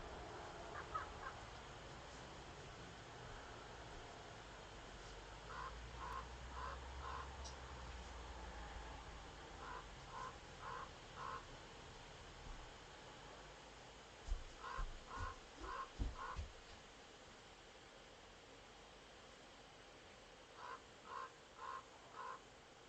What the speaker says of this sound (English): I hope you guys can hear that crow.